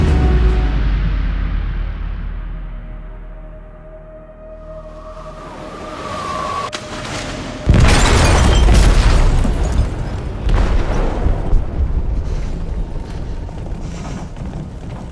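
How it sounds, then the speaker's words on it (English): An explosive detonates in a ship's hold in Detroit: Become Human, a loud booming blast striking midway through a low rumbling drone, followed by a heavy, roaring rumble with crashing debris. "They detonated an explosive in the hold."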